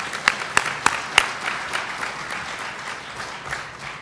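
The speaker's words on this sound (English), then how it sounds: "So a round of applause for that alone." Audience at a nutrition support conference applauds speakers, a sustained, fairly distant wash of clapping with a few sharper claps near the start that fades gradually, with no talk.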